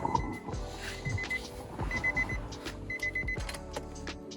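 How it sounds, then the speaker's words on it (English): Repeated electronic beeps in short bursts from a car being jump-started with a booster, three evenly spaced sets of rapid tones over rumbling mechanical noise. "I hear beeping."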